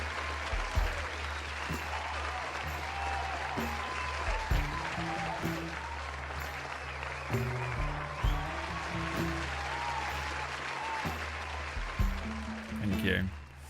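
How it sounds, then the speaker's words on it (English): Applause from a small group of about six people opens a Dungeons & Dragons livestream, a steady patter of clapping that runs throughout, with voices talking over it. "It's a lot of applause for just 6 people."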